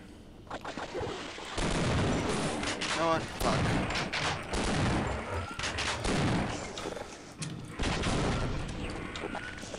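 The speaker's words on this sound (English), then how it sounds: "Always constant gunfire." Dense Half-Life gunfire crackles in rapid, overlapping bursts with brief lulls, loud and nearly continuous, while a voice talks over it.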